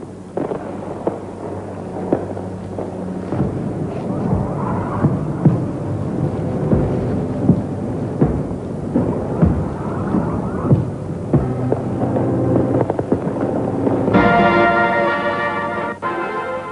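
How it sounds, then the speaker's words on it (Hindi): Fireworks display in Barcelona welcoming the Olympic torch boom and crackle continuously, loud bursts overlapping with a dense sizzling patter, growing busier toward the end. "इस अवसर पर आतिशबाजी का शानदार प्रदर्शन किया गया।"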